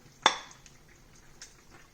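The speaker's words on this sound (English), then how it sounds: "So I'm gonna remove some into a bowl." Vegetarian Vietnamese stew of mushrooms, gluten, vegetables, pineapple and tofu being ladled into a bowl: one sharp close metallic clank of the ladle against the pot, then faint soft scrapes and drips.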